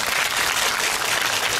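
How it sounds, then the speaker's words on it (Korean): Dense, steady applause from a film audience at a post-screening talk event, filling the short clip without any talking. "여러분 박수 한번 부탁드릴게요."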